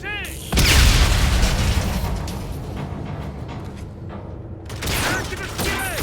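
Deep, loud grenade blasts rumble through Call of Duty: Infinite Warfare combat, sustained and dense, mixed with gunfire, mechanical clatter and voices.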